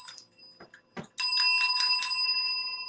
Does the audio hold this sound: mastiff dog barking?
no